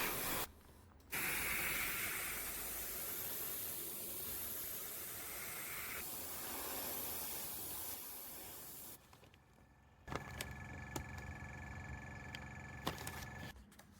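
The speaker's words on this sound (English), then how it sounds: "After this, I use some dark blue with the airbrush and go along the edges." An airbrush hisses steadily as dark blue dye is sprayed along the edges of a leather skull mask, a continuous close spray with short pauses and on-off bursts, followed by fainter rubbing and clicking handling sounds.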